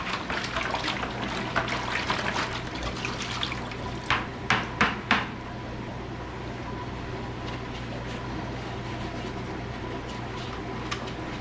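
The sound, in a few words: rinsing aquarium filters under running water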